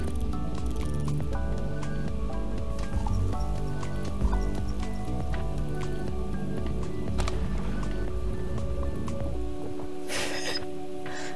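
Cartoonish wet squishing and dripping effects from the video game Donut County, layered over steady game music, with a brighter splash burst near the end.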